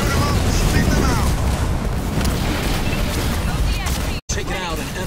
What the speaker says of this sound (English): Destroying an enemy structure.